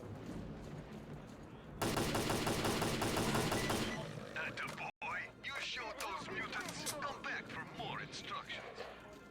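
AK rifle gunfire in the shooter game S.T.A.L.K.E.R.: Clear Sky: a dense, loud automatic burst of about two seconds, then scattered shots and impacts, with someone talking over the action.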